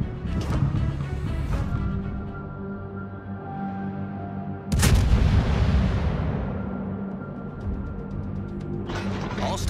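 Naval gunfire in a gunboat video game, heavy cannon blasts with long rumbling decay, one especially loud boom midway and another near the end, over a steady engine drone, no talking.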